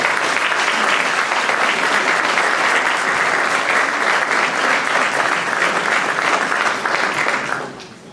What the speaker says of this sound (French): merci à Clémence, que vous pouvez applaudir, la chef d'orchestre de toutes les radios.